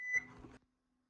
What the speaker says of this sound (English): Oops, our timer just went